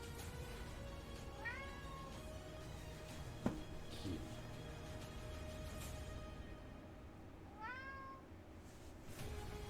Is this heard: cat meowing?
yes